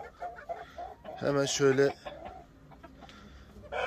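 Light Brahma hens cluck close by in a coop, a loud cackling burst mid-clip amid scattered softer clucks, with someone speaking briefly.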